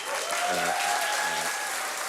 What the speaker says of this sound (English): Merits a round of applause, ladies and gentlemen.